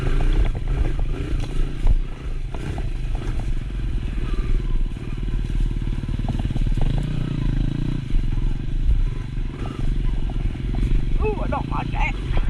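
Small dirt bike ridden along a bumpy single-track mountain trail, its engine droning low and steady close by while the chassis clatters and rattles over ruts and bumps; a rider's voice talks over the ride.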